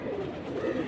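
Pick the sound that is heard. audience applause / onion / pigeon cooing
pigeon cooing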